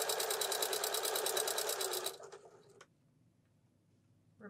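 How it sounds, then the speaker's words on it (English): Sewing machine running a fast, even straight stitch along a pillow edge for about two seconds, then stopping, followed by a few faint handling clicks and quiet. "we're just straight stitching"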